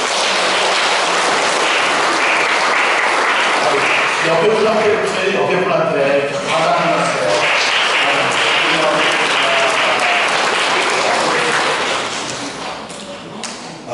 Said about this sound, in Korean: 여러분, 격려의 박수 한번 칠까요?